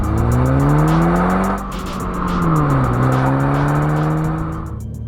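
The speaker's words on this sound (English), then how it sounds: "Oh, and you can't forget about the engine note." A 2022 MINI Cooper S Hardtop 2 Door engine revs up through the gears, its note rising, dipping at a shift and climbing again, loud and close with tire and road noise underneath.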